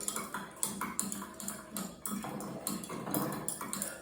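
Soluble starch solution being stirred for a chemistry practical, giving a run of light, rapid clinks and taps of a rod against a glass container, fairly close and steady throughout.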